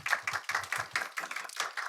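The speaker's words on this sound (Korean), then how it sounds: "박수 부탁드립니다." An audience at a formal results-presentation event claps together, many hands in a brisk, steady patter heard close and on its own without voices.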